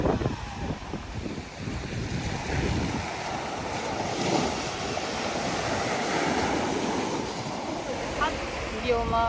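Waves washing onto a beach on a cold, windy day, with steady surf roar and gusts of wind buffeting the microphone, a low rumble dominating early on.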